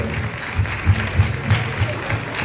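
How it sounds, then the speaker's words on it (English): Audience at a national cybersecurity challenge event in Ghana claps to welcome a United Nations representative; a continuous spread of applause runs over a steady, thumping low beat pulsing roughly three times a second. "Let's keep it clapping for him when he starts speaking."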